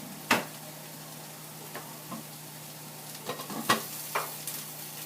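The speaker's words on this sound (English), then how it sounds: "I get these mushroom and onions cooked up" Mushrooms and onions frying in a pan, a faint low sizzle broken by a few sharp utensil clicks and taps, quiet and without talk.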